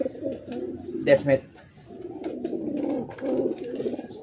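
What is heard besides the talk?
racing pigeons cooing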